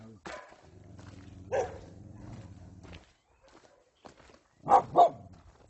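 Several sharp barks from dogs guarding cattle ring out, a couple early and then two quick loud ones near the end, with gaps of quiet between.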